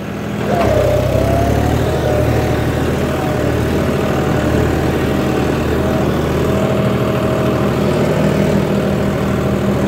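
A John Deere 5310 GearPro 55 HP tractor engine runs loud and close, starting into a steady low diesel drone with a rising whine that holds evenly throughout.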